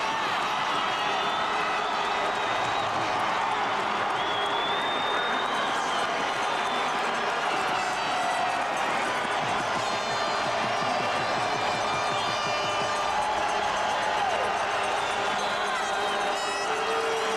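Stadium crowd of football fans roaring and cheering after a Calgary Stampeders touchdown in the 1991 CFL Western Final against Edmonton, a dense sustained wash of voices that stays loud throughout with no clear gaps.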